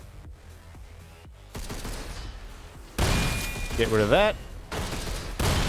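Weapons fire in the video game Synthetik 2 comes in sharp bursts of loud shots and impacts, with a rising electronic whine between them, while a player talks briefly.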